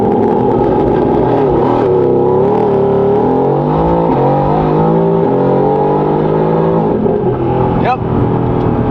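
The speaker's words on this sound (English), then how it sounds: "Burnout and donuts. Traction mode, traction off. All the way off." A Mercedes-AMG GT S engine revs hard through a burnout with traction control fully off, a loud, sustained roar rising and falling in pitch across the whole stretch, with a brief sharp shift blip near the end.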